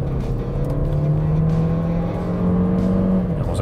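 A KGM SsangYong Tivoli Turbo in sport mode accelerates at full throttle, its engine note climbing steadily and loudly through the revs before a brief dip near the end, close up inside the cabin.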